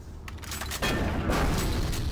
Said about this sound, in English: Explosions. Always awesome.